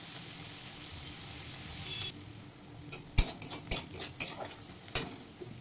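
Chopped onion fries in a pan, first as a steady close sizzle and then with a few sharp clinks and scrapes as a spatula stirs it against the metal.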